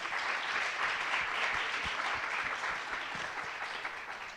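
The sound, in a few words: audience applauding panelists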